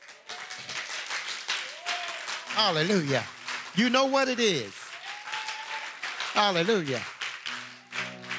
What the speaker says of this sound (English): just begin to clap your hands.